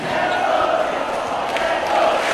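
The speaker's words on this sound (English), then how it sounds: "Loud cheer by the Singapore crowd to cheer on Team Singapore" Singapore home crowd cheering at a field hockey final against Thailand, a loud broad roar filling the whole moment without a break.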